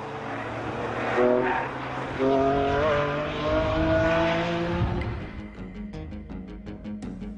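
A naturally aspirated Ferrari Enzo engine roars at high revs, rising in pitch through the gears, then fades into a rapid, crackling exhaust burble as it passes.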